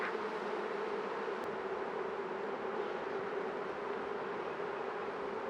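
Honeybees buzz steadily in a dense, even hum while a beehive is opened and inspected in spring, the drone continuous and moderately close without any talking.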